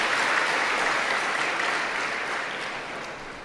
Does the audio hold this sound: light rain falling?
no